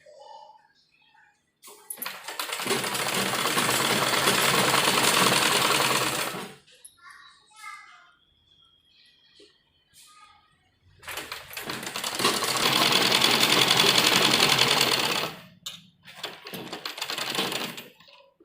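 A sewing machine stitches along the folded edge of an embroidered sleeve with lining, running loudly in two long bursts of several seconds each with quiet pauses between.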